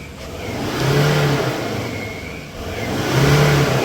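A diesel engine in a 2018 Ford Endeavour with black smoke and low pickup is revved twice in steady bursts, each rising to a sustained higher whine and then dropping back to a moderate idle.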